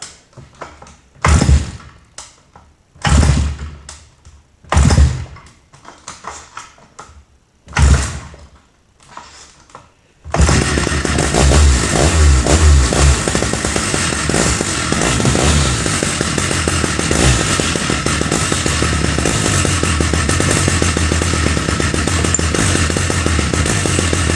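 Several sharp bursts with pauses, like pull-starts, then a Stihl 084 chainsaw on an Alaskan mill roars to life and runs steadily and loudly, close by, milling a cedar log.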